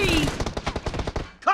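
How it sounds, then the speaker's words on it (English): Rapid bursts of gunfire in the PUBG Mobile battle game, about a dozen sharp cracks fired in quick succession, loud and close, followed by a brief electronic chime at the end. "Two shots."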